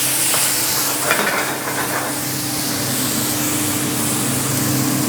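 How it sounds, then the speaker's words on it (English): Pasta sauce with truffle oil is flambéed with brandy in a pan, giving a loud, steady sizzling roar with a whooshing hiss as the flame catches. It holds close and constant for several seconds with no talking. "I'm going to flambe with a little bit of brandy"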